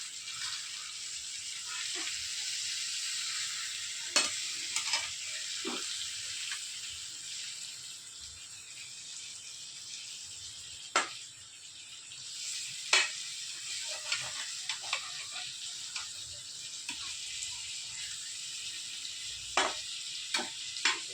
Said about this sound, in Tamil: கொஞ்சம் எண்ணெய் ஊற்றிக்கலாம் கொஞ்சம் வேகட்டும் இப்போ வந்து இதை திருப்பி போடணும்